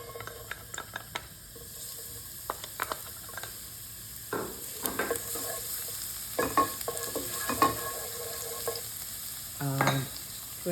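Garlic drops into two tablespoons of hot oil in a pan, giving a soft, quiet sizzle broken by the clinks and scrapes of stirring.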